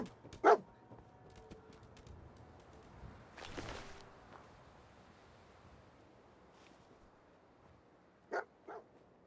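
A dog in the video game Fallout 4 gives a short bark early, then two more brief barks near the end, faint against a quiet windy outdoor ambience.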